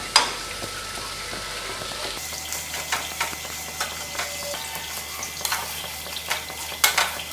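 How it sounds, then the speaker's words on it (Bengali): Fish chop mixture with coriander leaves being sautéed in a pan: a steady sizzle with scraping, stirring strokes of a spatula at a fairly even rhythm, close and moderately loud, with no talking. "এবার একটু ধনে পাতা দেব, ভালো করে কষিয়ে নেব"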